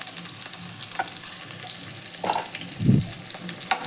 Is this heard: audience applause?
no